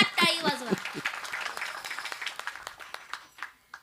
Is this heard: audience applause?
yes